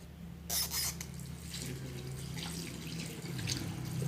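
Tap water running steadily as hands are rinsed, with a brief louder splash near the start and a low background hum.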